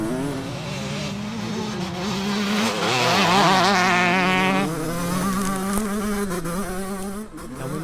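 A 47-year-old two-stroke dirt bike racing on a track against modern four-strokes gives a raspy, buzzing whine as it accelerates. The pitch wavers and climbs, peaking loudly mid-clip, with more engine noise around it.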